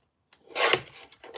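A small strip of decorative paper is trimmed on a paper trimmer, giving one short, close rasping slide of the blade that fades into faint handling noise.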